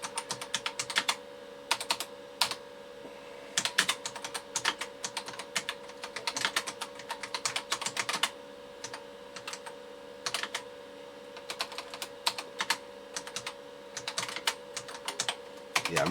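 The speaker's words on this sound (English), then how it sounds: "Yeah, I'm really bad at typing now" Typing on an Amstrad PC 2286 keyboard in a Windows 3.1 word processor: steady, uneven runs of sharp, close keystroke clicks with a few short pauses over a constant low electronic hum.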